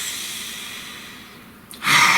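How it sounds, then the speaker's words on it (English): A single deep breath, soft airy inhalation fading over a second and a half, then a louder breathy exhale near the mic. "Please take a nice deep breath."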